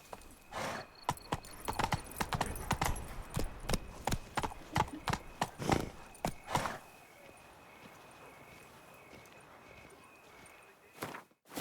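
Trotting hooves of a horse in The Witcher 3, a steady close clip-clop for several seconds that stops, leaving quiet game ambience with a faint tonal hum.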